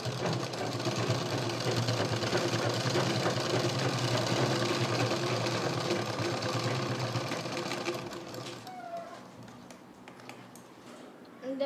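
A sewing machine stitches a folding jute purse in one long continuous whirring run, loud and close, before stopping and leaving a quiet room.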